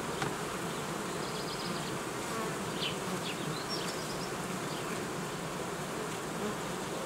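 Honey bees drone steadily over hive frames in an apiary during queen rearing in nucleus colonies, a continuous dense buzz with a few brief higher whines of individual bees passing close.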